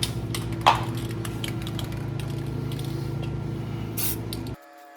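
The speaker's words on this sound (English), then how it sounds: "we all know how it goes when you get a hold of a spray can" A spray paint can hisses steadily onto the body of a silver car, one continuous close, loud spray lasting several seconds before cutting off abruptly.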